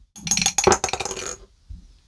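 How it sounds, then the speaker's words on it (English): Dice rattle and clatter across a hard surface in a quick burst of sharp clicks and bounces, then settle into silence, loud and close with no talking. "let's see what the dice have to say for shelf 3"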